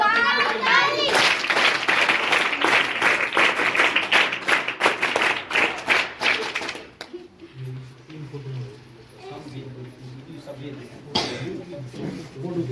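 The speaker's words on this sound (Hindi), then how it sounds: "ताली बजा दो जोर से" Children clap loudly together at a national tobacco control programme event, a dense burst of rapid hand claps for several seconds that stops abruptly, followed by quieter talk and chatter.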